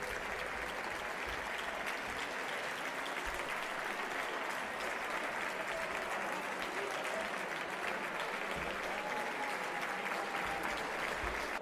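Long, sustained applause fills the Italian Chamber of Deputies, a dense, even roar of many hands clapping that carries on without a break for the full stretch.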